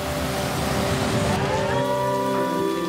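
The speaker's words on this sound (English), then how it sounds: "When heavy rain strikes, the city begins to fill." Heavy rain pours down on Kuala Lumpur as a steady, dense broadband hiss. It is loud and continuous with a faint tonal hum underneath and no speech.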